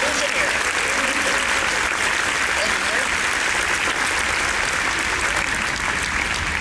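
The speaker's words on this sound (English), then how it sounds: "So, round of applause for Daniel Joseph, Master Illusioneer." An audience at a D23 Expo presentation applauds steadily, a dense continuous patter of clapping that stays loud and even throughout.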